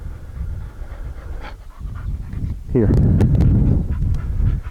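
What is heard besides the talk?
dog panting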